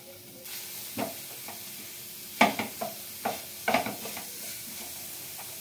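Semolina, grated coconut and khoya are fried and stirred in a pan for gujiya filling, a soft steady sizzle broken by several sharp scraping strokes of the spatula, no voices.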